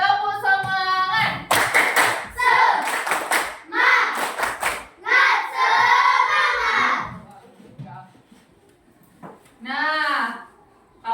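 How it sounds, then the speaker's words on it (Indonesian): A classroom of students performs the rhythmic 'tepuk semangat' spirit clap, sharp grouped bursts of claps alternating with loud chanted voices, then a teacher's voice speaks briefly. "Oke, coba dulu. Tepuk semangat."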